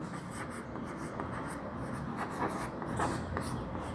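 Chalk or marker scratching across a board during a physics class, a continuous rubbing and scraping stroke pattern heard close and fairly soft, with no talking over it.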